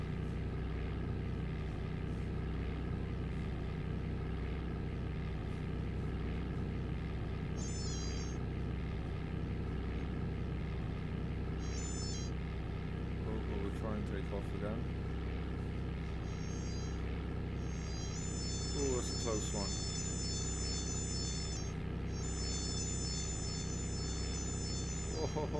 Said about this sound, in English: We'll let it back off, give it some throttle, and then we'll take off again.